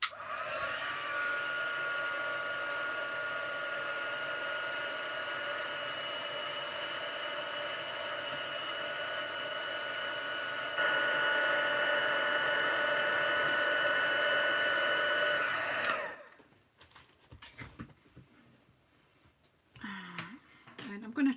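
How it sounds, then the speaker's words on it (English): Loud, steady whooshing blast of a heat tool melting embossing powder and glitter on a stamped card, running continuously for about sixteen seconds before cutting off, followed by faint handling sounds. "we need to heat emboss this"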